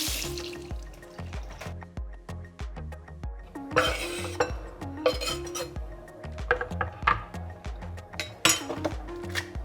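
Mini Roma tomatoes are rinsed under a running kitchen tap, with water splashing and irregular clinks and knocks against a bowl or sink throughout.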